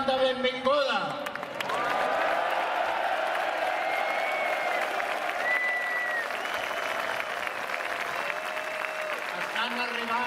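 A large outdoor crowd at the Arc de Triomf in Barcelona cheers and applauds in welcome as politicians arrive, a dense, steady roar of clapping and shouting that runs loud and continuous from start to finish, with whistles rising above it.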